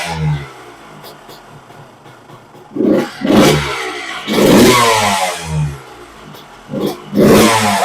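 A 2001 Honda CR 125 two-stroke motorcycle engine with an upgraded carburetor and air box boot idles roughly, then revs up in several sharp bursts, loud and close, with the last rises sustained longest.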